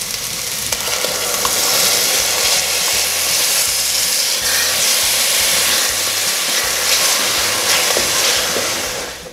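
Culantro frying slowly in a pan with ají and zapallito loche for Peruvian arroz con pollo, a loud, dense, continuous sizzle and hiss that holds steady throughout with no voices.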